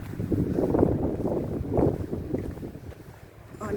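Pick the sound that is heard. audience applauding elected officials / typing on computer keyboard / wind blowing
wind blowing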